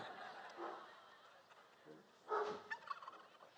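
Live turkeys at a Thanksgiving turkey pardon event gobble in a short burst of warbling calls, fairly faint and mid-distance, over crowd murmur and background talk.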